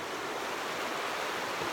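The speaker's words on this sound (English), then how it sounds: "here you can probably hear the creek here" Steady broadband rush of a creek flowing with plenty of water near an off-grid camp, continuous and fairly close with no voices.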